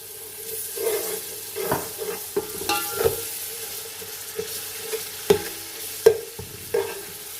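Garlic ginger paste frying in a pot for chicken tikka biryani, a soft sizzle broken by repeated scraping strokes of a spoon stirring it, close and without talk.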